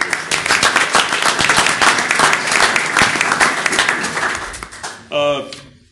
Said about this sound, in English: Let's give these folks a nice round of applause.